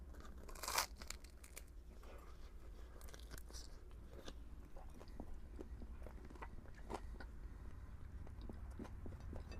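Bites and chewing of hot homemade pepperoni pizza in an RV, a crisp bite up front followed by soft, close, repeated crunching and mouth sounds, quiet with no talk.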